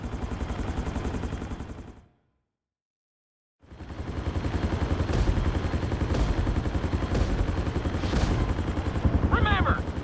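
Helicopter flying in the Grand Theft Auto V flight school, a loud continuous rotor thrum with rapid chopping, cut to silence for over a second before resuming just as strongly.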